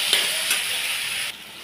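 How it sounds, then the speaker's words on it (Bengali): Chopped tomatoes and green chillies frying and being stirred in a pan, a loud close sizzle with a couple of scraping stir strokes before it drops off abruptly near the end. "দিয়ে আবার আমি এটাকে ভালো করে নেড়ে নেব যাতে টমেটোগুলো"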